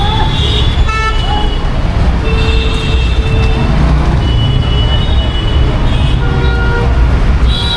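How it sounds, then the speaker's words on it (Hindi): Busy city road traffic with a steady loud roar of engines, several car and auto horns honking in short repeated toots, and voices faintly in the background. "अब ट्रैफिक तो लगा हुआ है"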